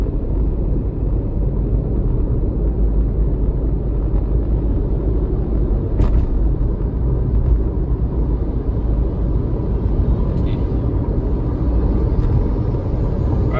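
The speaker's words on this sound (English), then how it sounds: "So we're going downhill now at about a speed of 80" Steady low road rumble and wind noise from a car rolling downhill on a highway at about 80, continuous and even throughout, with a faint tick or two and no talking.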